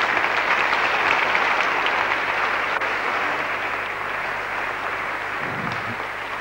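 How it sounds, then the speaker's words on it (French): A concert audience at the 1993 Monte Carlo Piano Masters competition gives sustained applause that is full and steady, easing off slightly toward the end, with no voices heard. "Je vous demande de l'applaudir en attendant d'accueillir notre nouvelle candidate."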